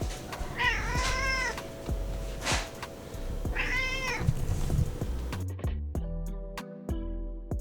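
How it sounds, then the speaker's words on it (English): A house cat meows twice, a drawn-out complaining cry followed by a second one a few seconds later, over steady room noise, with light clinks and knocks toward the end. "my cat Lou was not exactly excited about"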